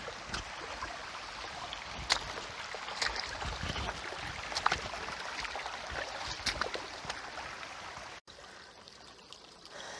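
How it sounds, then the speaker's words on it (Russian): Mountain river being waded across, rushing water and splashing steps near and fairly faint, with a brief dropout near the end. "Сейчас будет река, мне нужно ее перейти вброд."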